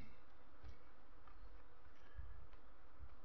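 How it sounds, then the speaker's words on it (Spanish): Buckfast bees buzz in a low, faint, steady hum inside a hive, with occasional louder passes of individual insects close by. "la cámara está llena, ¿eh? De abejas."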